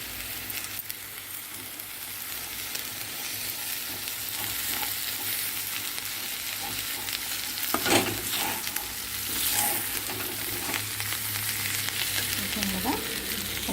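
Potato masala fry cooking in a pan gives a steady close sizzle, with occasional scraping and clinks as it is stirred, and no talking.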